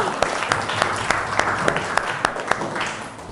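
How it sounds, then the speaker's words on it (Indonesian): Students in a primary school classroom clap together, a lively round of applause with crisp individual claps standing out over the steady patter. "tepuk tangan dulu dong buat semuanya"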